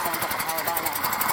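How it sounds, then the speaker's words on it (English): A riding lawnmower engine pulses as it accelerates during a police stop, a rough rhythmic throb running steadily beneath voices. "ignored the deputy's commands to stop and instead accelerated his mower"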